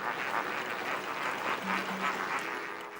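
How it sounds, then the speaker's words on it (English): A flock of bright pink flamingos at Lake Bogoria, in a volcanic region, fills the air with a continuous mass of overlapping honks and chatter at moderate distance. "An endless swarm of bright pink flamingos."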